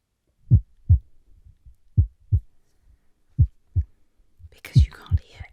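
Heartbeat sounds in paired low thumps, soft and regular, with faint whispering toward the end.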